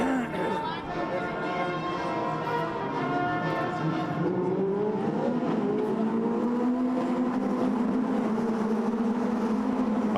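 GT race cars in a Blancpain GT Series Sprint Cup race at Brands Hatch accelerate away, a steady loud engine roar with rising pitch sweeps filling the whole stretch, with crowd chatter mixed in underneath.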